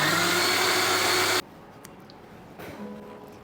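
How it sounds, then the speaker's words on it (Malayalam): A wet grinder whirs loudly and steadily while grinding rice and coconut to a medium paste for Kerala appam batter, then cuts off abruptly, leaving a quiet room. "റൈസും കോക്കനട്ടും നമുക്ക് വേറൊരു ഗ്രൈൻഡറിൽ അരച്ചെടുക്കാം."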